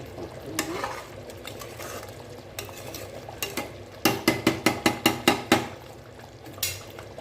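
Fenugreek kuzhambu premix frying in oil in a pan, a steady sizzle punctuated by a run of sharp, close spattering pops and spoon-against-pan taps, loudest in a quick burst toward the end.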